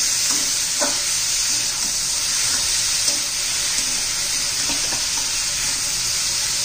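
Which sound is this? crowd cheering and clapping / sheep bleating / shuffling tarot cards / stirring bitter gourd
stirring bitter gourd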